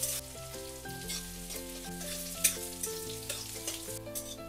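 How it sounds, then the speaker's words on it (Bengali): Chopped onion sizzles in hot oil tempered with five-spice for a bean and potato curry, a steady close frying hiss with faint stirring, under soft background music. "কুচি রেখেছি পেঁয়াজটাও দিয়ে দিতে হবে। এবার নাড়াচাড়া করে দিতে হবে।"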